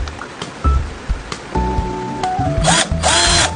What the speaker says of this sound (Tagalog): pwede rin siyang barena, pambutas ng kahoy o di kaya ng bato.